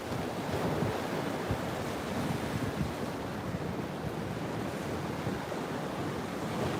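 Ocean water surges in and out at Jupiter Inlet, a steady broadband wash and rush of surf with wind buffeting the microphone, continuous and fairly close, no voices.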